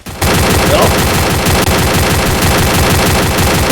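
Rapid automatic gunfire from the video game Free Fire bursts in after a short pause and rattles on loud and unbroken to the end.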